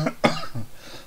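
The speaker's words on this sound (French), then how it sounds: "J'ai la toux grasse toujours." A wet, chesty cough from a man with a cold: a quick pair of close, loud bursts with a softer rasp trailing after, with no talking.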